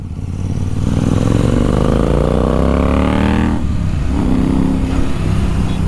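A stock Royal Enfield Interceptor 650 twin engine revs up steadily, its pitch rising to a peak before dropping off sharply, then holding a lower note. It is loud and close throughout, with no talk.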